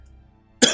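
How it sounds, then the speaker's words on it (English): A single sharp cough from one person bursts out close and loud after a stretch of near silence, cutting off abruptly at the end. "I don't like coughing in people's ears."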